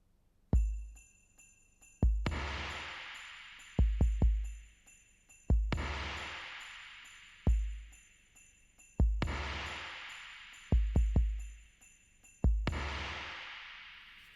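Electronic drum pads on a Roland SPD-SX play the simple repeating intro groove of a song, with punchy kicks and bright, decaying crash-like hits at regular intervals. There are no voices.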